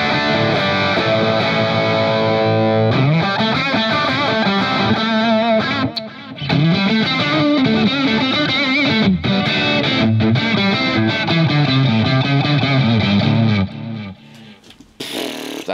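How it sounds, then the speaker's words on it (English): Electric guitar played through a Marshall amp model on a Positive Grid Spark 2 with overdrive off, a crunchy, slightly gritty tone carrying chords and riffs close up, with brief pauses and no voices. "Ditch the overdrive and the Marshall sounds like this."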